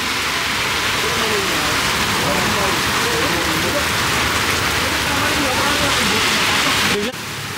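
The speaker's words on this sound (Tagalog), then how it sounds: "ang lakas ng ulan dito sa may" Heavy rain pours steadily and loudly on a street along Buhay na Tubig, a dense continuous hiss with a voice talking underneath, ending with a brief knock near the close.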